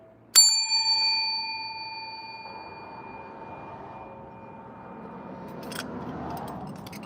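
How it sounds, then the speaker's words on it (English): A small bell is struck once with a sharp, bright ring that lingers and slowly decays for several seconds, followed by faint rustling and a light clink near the end. "I'm gonna just ring the bell."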